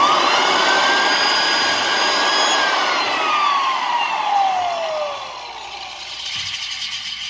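A Super 7 floor edger sanding machine runs with a loud, high whining roar whose pitch slides downward as it cuts and then drops in level near the end.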